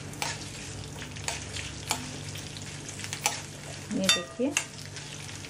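Chopped ingredients for tomato chutney cook in a pan over a low flame with a soft, steady sizzle, broken by scrapes and stirring clatter from a utensil, while a voice speaks briefly.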